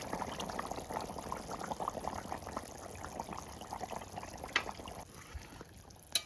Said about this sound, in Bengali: এবার এর মধ্যে আমি ভেজে রাখা মশলাটা যেটা বেটে রেখেছিলাম সেটা দিয়ে দিচ্ছি।